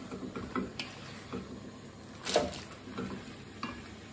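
Chopped tomatoes are stirred into frying vegan chilli with sweet potato, producing a soft background sizzle with intermittent spoon scrapes and clicks, including one louder clatter midway.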